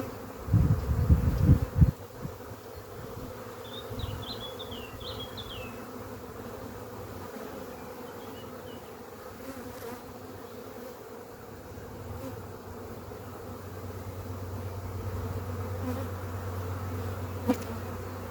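Honey bees buzzing around a hive frame holding young brood, a dense steady hum close by, with a few louder handling thumps early on and no speech.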